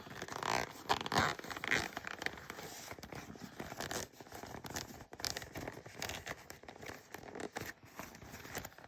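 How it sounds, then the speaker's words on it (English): A zipper on a sewn crossbody bag is opened in quiet, close-up bursts of scratchy ripping and crinkling fabric, irregular and soft throughout. "we're going to open up that zipper"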